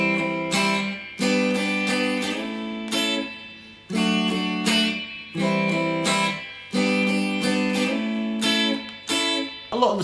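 Electric guitar playing a song, repeating strummed chord phrases each closed by a single short staccato hit, clear and close with brief gaps between phrases.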